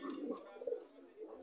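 A racer pigeon gives soft, low cooing close by, a short murmuring call under faint background noise.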